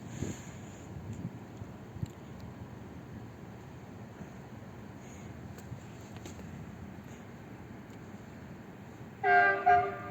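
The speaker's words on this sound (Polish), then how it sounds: "Jedzie Intercity Barbakan." An Intercity Barbakan passenger train, a Flirt electric unit, rumbles faintly at a distance for several seconds before a loud two-part horn blast sounds near the end.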